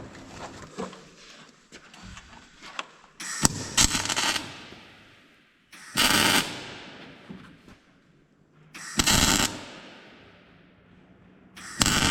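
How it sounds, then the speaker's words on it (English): Bursts of welding on a cut-apart fire engine body, four loud crackling spells of a few seconds each, with quieter gaps between them and no talking. "Welded underneath, welded on top."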